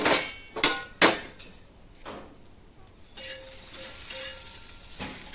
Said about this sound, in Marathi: परत एकदा हलवून घेऊया आपण.